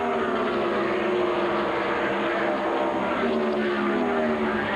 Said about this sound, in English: We got the two different engines battling each other right there.